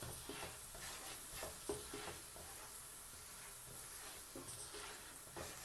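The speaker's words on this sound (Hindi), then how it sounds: "लहसुन को हम लाइट ब्राउन करेंगे, ज़्यादा इसको डार्क ब्राउन नहीं करना।" Garlic frying in oil over a medium flame, with a continuous soft sizzle and hiss, occasional stirring scrapes, quiet and steady with no talking.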